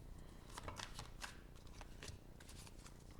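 A large deck of tarot cards shuffled by hand, a quick riffling flutter of soft card slaps in bursts, close and fairly quiet with faint room noise.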